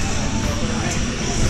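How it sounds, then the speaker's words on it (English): A skydiving airplane engine drones as a broad, steady roar under loud wind rush during a tandem skydive, with no clear break across the short stretch. "Hey, that's your plane."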